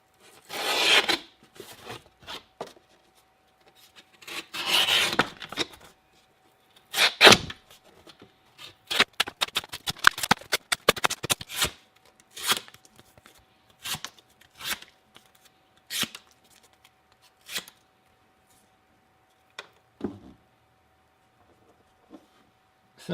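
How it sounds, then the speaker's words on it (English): A cheap homemade survival knife slices through a piece of cardboard in a cutting test, giving close, scratchy rasping and tearing strokes in irregular bursts separated by short pauses. "Now let's do a cutting test real quick. So I have a piece of cardboard."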